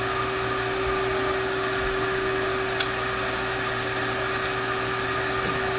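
A shop vacuum powers the vacuum table of a Printrbot CNC v2, a loud steady drone with a constant hum that runs unbroken and close throughout, without speech.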